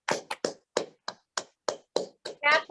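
A group of children at a life skills camp clap and pat themselves, producing about ten sharp, evenly spaced bursts that end in a longer, fuller flurry of claps.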